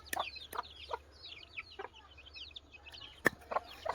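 Chickens and a large rooster cluck in a farmyard while being fed fish scraps, with sharp calls repeating irregularly, some loud and close and others softer, over faint background bird chatter.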